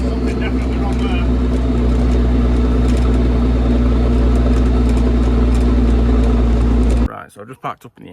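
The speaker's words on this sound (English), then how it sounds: "the noise of the engine just got really, really bassy." A loud, deep Reo engine drones steadily with heavy low rumble, running rough and very bassy from a fault, then cuts off abruptly near the end, leaving brief quieter sounds.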